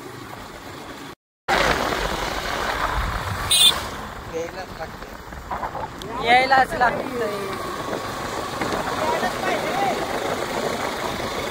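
A Bajaj Pulsar RS200 motorcycle carrying three riders on a muddy, potholed monsoon road, its engine giving a steady running drone throughout, with a brief dropout early on. Voices talk over the engine.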